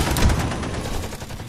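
Gunfire in a horror story scene: a rapid, sustained fusillade of shots rattles on continuously, slightly muffled and roomy, with no voices over it.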